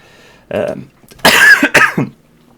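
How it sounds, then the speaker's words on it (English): A few harsh coughs from someone with COVID in a dusty room break out close by, a short burst followed by a couple more, with a quiet room around them. "There's so much dust in my room, which is probably why I'm coughing."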